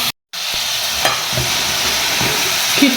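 Lamb sizzles and fries loudly in a pot, a constant crackling hiss broken by a brief dropout, with occasional scrapes and knocks as the meat is stirred; no talking.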